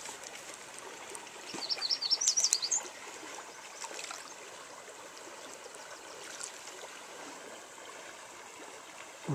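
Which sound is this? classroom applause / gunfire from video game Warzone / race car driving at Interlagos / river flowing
river flowing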